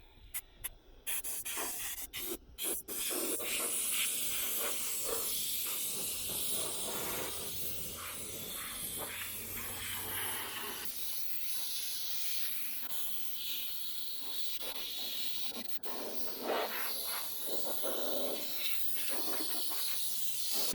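Compressed air blasts dust off a scuffed, freshly sanded BMW F30 hood inside an inflatable paint booth, a loud continuous hiss that runs almost unbroken for about twenty seconds after a few short opening bursts.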